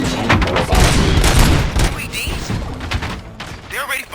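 Gunfire in the shooter Robocop Rogue City, a rapid burst of shots and thuds under a voice, loud and close.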